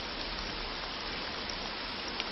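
Rain falling outdoors, a steady, even hiss of drops on surfaces that stays constant and moderately loud throughout, with no voices.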